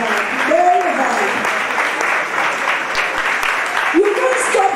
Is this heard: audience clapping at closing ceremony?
yes